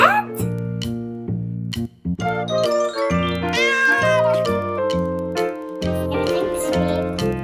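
Repeated cat meows ring out over a busy, tonal musical backdrop, with a few soft voice-like sounds mixed in.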